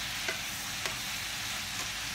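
Vegetables being stir-fried quickly in a pan give a steady, close hiss of frying with a few brief scraping clicks of stirring; no one speaks.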